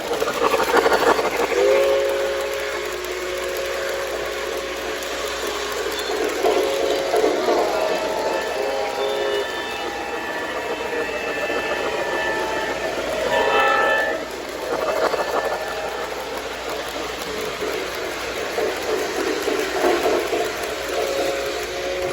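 An O gauge model train rumbles steadily along its track for a long stretch, with whistle-like tones, some clatter and occasional voices in the background.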